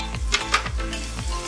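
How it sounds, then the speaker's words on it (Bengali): Minced garlic dropped into a pan of lightly fried onion sizzles steadily, with a few scraping stirs and soft utensil knocks, close and without any voices. "রসুন কুচিটা দিয়ে দিলাম।"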